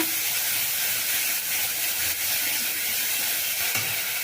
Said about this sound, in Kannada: ಈಗ ನಮ್ಮ ನೀರು ಎಷ್ಟು ಬೇಕೋ ಅಷ್ಟು ಹಾಕ್ಕೊಳ್ಳೋಣ